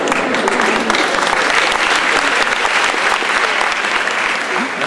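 An audience bursts into loud, sustained applause, dense clapping filling the room at a steady level throughout.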